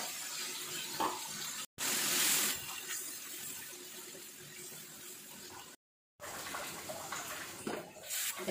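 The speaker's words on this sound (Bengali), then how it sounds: "একটু পানি দিয়ে কষিয়ে নিব মশলাটা।" Water poured into a pan of frying fish spice paste with chili powder and turmeric, giving a steady broad hiss and bubbling sizzle with two brief dropouts, close and fairly loud, no talk.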